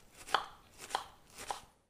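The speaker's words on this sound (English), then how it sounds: "I'm going to just finely chop a couple of onions" Onions are finely chopped with a knife on a board in a kitchen: three distinct chopping knocks, about half a second apart, close and fairly quiet, with no talk.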